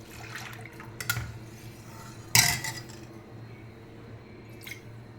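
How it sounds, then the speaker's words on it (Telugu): Milk poured into a pot of cooked sago, soft splashing and sloshing liquid with a couple of sharp metallic clinks from the pot or a utensil, close by and fairly quiet, no talking. "ఇందులోనే మనము ఇప్పుడు పాలు వేసుకుందాం"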